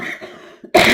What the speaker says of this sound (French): Pourquoi je tousse autant?